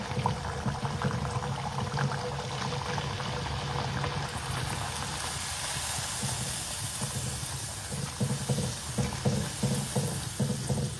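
Poori fries in hot oil with a steady, close bubbling hiss that swells after a few seconds, then picks up scattered crackles and pops toward the end.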